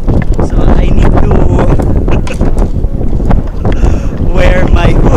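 Strong wind buffets the microphone on a boardwalk through dense mangroves at a resort in Tubajon, Laguindingan, Misamis Oriental, a constant loud roar with gusty rumbles throughout.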